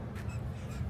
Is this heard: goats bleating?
no